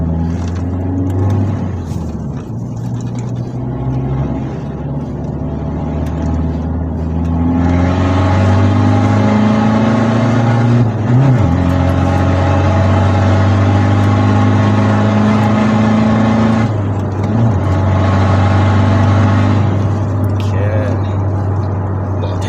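Engine of a remapped 2021 Ford Ranger XL Street pickup heard from inside while driving on a road, a steady mid-low drone that rises and shifts with acceleration and gear changes, with people talking over it.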